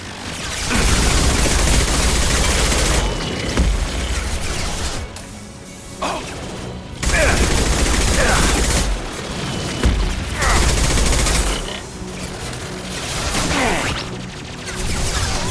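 Gunfire in the video game Mass Effect Legendary Edition, with bursts of rapid shots and impacts coming in waves across the clip, loud and close, broken by short lulls.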